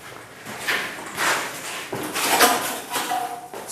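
An outside door knocks and rattles several times in uneven bursts, a close, hollow wooden clatter with short pauses between the movements.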